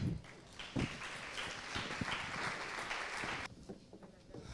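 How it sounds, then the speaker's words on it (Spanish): Audience applause for a speaker at a marketing conference, a sustained wash of clapping from a crowd that stays even for about three seconds and then drops away sharply. "Démosle por favor un fuerte aplauso a Julián David Correa."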